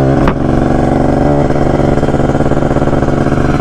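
Kawasaki Ninja RR motorcycle engine revving at a fuel stop, a loud steady two-stroke drone close by with a brief throttle blip near the start, no talk.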